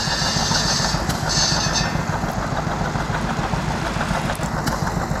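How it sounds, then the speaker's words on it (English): Several heavy tractor engines idle and rumble steadily at a steam and craft show, a continuous low chugging drone with occasional faint clanks, no voices. "That's been overtaken by tractors."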